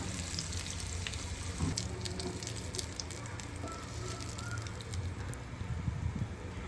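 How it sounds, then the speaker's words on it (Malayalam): Chicken pieces fry in hot oil in a pan for a Kerala chicken kondattam, giving a steady close sizzle and crackle that never lets up, with a few sharper spits and pops mixed in and no voices. "ബാക്കിയുള്ള ചിക്കൻ പീസുകൾ ഇതുപോലെ വറുത്തെടുക്കണം"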